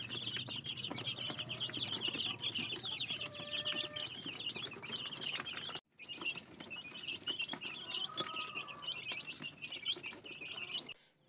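Newly hatched chicks moved into a larger brooder keep up a dense, continuous chorus of high peeping, close by and steady, broken by a brief silence midway before the chirping resumes.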